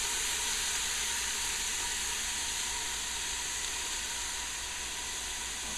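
Vegetables for turkey soup sweating in a pot, giving a steady, even sizzle and hiss that stays close and continuous, with no talk over it.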